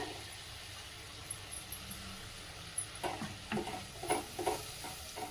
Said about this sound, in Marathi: आता ही ग्रेव्ही त्यामध्ये टाकून घेऊया.